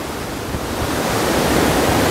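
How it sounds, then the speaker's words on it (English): Creek water rushing on Dickinson Creek, a dense, loud, steady roar close to the microphone with no voices. "It's just water."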